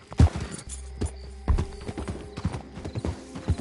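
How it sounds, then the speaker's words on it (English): A horse's hooves clip-clop steadily at a walking pace in the Red Dead Redemption 2 video game, close and clear, with a few heavier hoof thuds. "Fine horse you got there."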